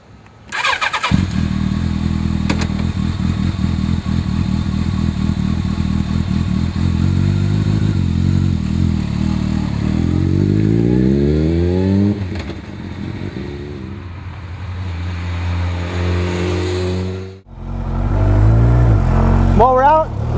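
A 2006 Campagna T-Rex three-wheeler starts up and drives off, its engine loud and close, revving steadily with rising pitch sweeps through the gears, then easing off before a sharp burst of acceleration at the end.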